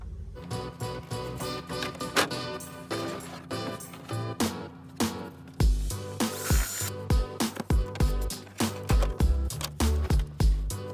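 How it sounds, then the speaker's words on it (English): A power drill whirs and stops in repeated short bursts, drilling a hole in the dashboard of a 2000 GMC Sierra 1500, with clicks and knocks between them, close by and fairly steady. "So I'll drill a hole and"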